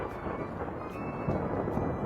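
Thunder and rain as a sound effect in a narrated Urdu children's story, a continuous low rumbling roll with rain hiss, steady and fairly loud, no voices.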